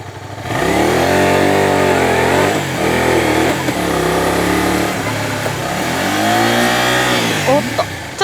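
A motorcycle engine revs loudly and close as the throttle is opened during a combined front and rear braking stop, its pitch rising and falling in several surges with no pause.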